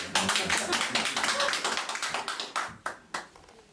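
A lecture audience clapping in a dense burst that gradually thins out into a few last scattered claps.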